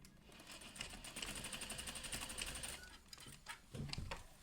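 A sewing machine stitches a half-inch seam along a shirt neckline, a steady close mechanical whir with rapid needle ticking that runs several seconds, then slows into a few short bursts and handling knocks.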